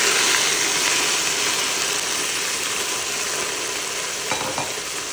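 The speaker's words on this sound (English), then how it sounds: "Now the garlic has had chance to cook, so I'm gonna add my spinach." Fresh spinach leaves dropped into a pot where garlic has been cooking for a spinach and kale daal, giving a steady, close broadband sizzle with faint stirring and a couple of small knocks near the end, no talking.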